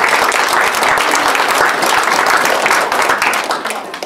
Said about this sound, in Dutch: Ik denk dat het goed is dat we ook een applaus doen voor juf Henriette.